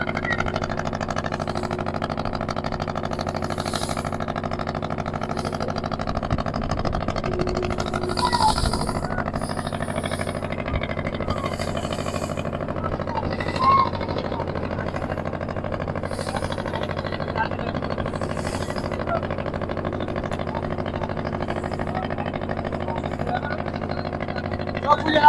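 A motorboat engine drones steadily at a mid pitch throughout on Sundarbans waters as the boat rises on waves, with voices talking faintly over it.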